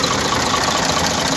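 An engine idles after a blowby repair, a steady, even hum running smoothly with no misfire stumbles, loud and continuous for a brief moment with no talk.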